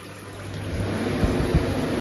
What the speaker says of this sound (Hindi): ये कूलर की आवाज़ है।